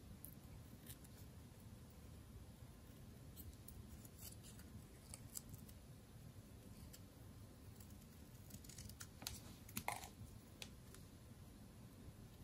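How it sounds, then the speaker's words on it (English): Scissors snip through paper while a party hat is cut out, a faint series of soft, irregular clicks and crisp cuts over a quiet background. "So now let's finish cutting out the party hat."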